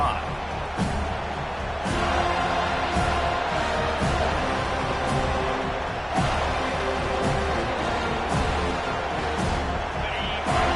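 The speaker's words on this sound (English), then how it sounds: "This crowd going to try to make life miserable for these guys." Stadium crowd roar in the College Football 25 video game rumbles steadily underneath, with rhythmic thuds and cheers, while a commentator talks over it throughout.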